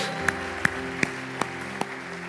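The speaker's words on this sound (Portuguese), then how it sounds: "Vamos aplaudir agora." A Portuguese-speaking church congregation claps in unison, five sharp, evenly spaced claps over a sustained musical drone in the hall.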